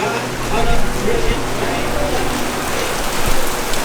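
Heavy rain pours down during a flood in a dense, continuous hiss, loud and close, with a low rumble beneath it.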